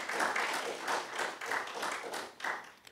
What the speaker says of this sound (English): Let's give him a hand clap of praise.